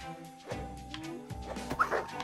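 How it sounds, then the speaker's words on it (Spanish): Canine cries of a wolf pack in the survival video game Cardlife sound at mid distance as a string of short yips, whimpers and bark-like calls that overlap irregularly, with no talk. "Se oye ahí como el aullido de la manada."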